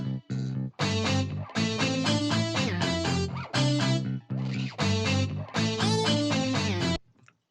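A guitar sample layered with a virtual bass guitar from Ample Bass Pro Lite plays a loud, dense groove of sustained chord notes with steady rhythmic hits and short gaps, alone without talk, ending abruptly.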